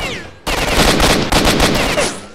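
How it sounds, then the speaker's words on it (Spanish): Rapid automatic gunfire in the video game S.T.A.L.K.E.R. Shadow of Chernobyl, a loud burst of shots starting abruptly and rattling continuously for about two seconds with a brief break midway, close and dense. "Ahí con los disparos en la cabeza."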